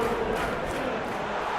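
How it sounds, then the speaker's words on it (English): Stadium crowd cheering in the football video game PES 2021: a dense, loud, continuous roar of many voices, steady throughout with no pauses. "the crowd clearly like what they just saw"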